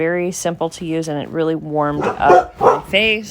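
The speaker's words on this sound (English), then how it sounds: "Sorry about the dogs. It's that time where everybody's coming home from work and they bark at every car." Dogs bark at passing cars, heard as short bursts half-buried beneath a person speaking steadily close to the microphone.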